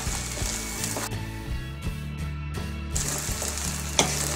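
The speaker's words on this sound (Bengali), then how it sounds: "ভালো করে তেলের সাথে মিক্স করে নিই মশলাটা।" Nutmeg and mustard spice paste stirred into hot oil for a garlic pickle, with a steady sizzle and repeated scraping strokes of the spoon that keep a rough, even rhythm throughout.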